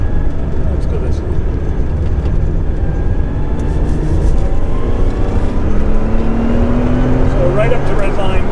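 A 1983 Porsche 911 SC Targa engine climbs steadily toward redline from inside the cabin, a loud continuous drone rising in pitch under wind and road noise.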